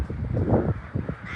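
A crow caws a few times in quick succession in Berlin, fairly close and clear, with a light outdoor background.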